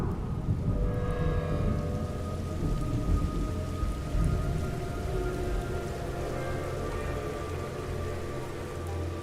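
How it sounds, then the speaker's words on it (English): Heavy rain pours continuously with rumbling thunder in a Metal Gear Solid 3: Snake Eater game scene, a dense steady downpour with low rolling booms throughout and no talking. "It's raining blood."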